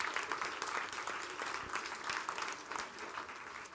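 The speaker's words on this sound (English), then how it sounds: "so round of applause" Audience applause at a poetry slam final after the judges' scores are read, brisk and fairly dense clapping heard close and continuous for a few seconds with no talk.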